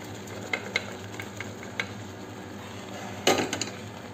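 A spoon scrapes and clinks against a pot as cooked moong dal is stirred into jaggery syrup, giving a few soft clatters, a louder clatter near the end and a faint simmering bed.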